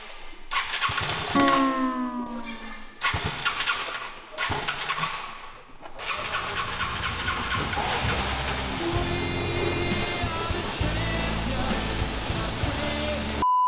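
A homemade vehicle's engine is started by ignition key and starter: several cranking bursts with short gaps, then the engine catches and settles into a continuous idle under a faint high whine.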